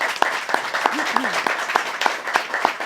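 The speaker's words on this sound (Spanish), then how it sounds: "os quiero dar un aplauso" An audience claps steadily and briskly, a dense spread of hand claps under a voice, continuing evenly throughout.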